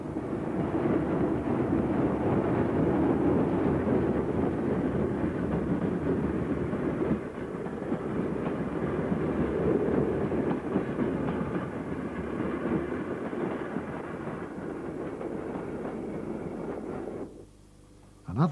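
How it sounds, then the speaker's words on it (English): An EM1 electric locomotive on the 1950s Woodhead Line hauls a rake of vintage GWR Society carriages past Crowden, a steady loud rumble and clatter of wheels on rail that carries on before cutting off abruptly near the end. "EM1 hauls such a working which utilised the GWR Society's rake of vintage carriages, seen here passing Crowden"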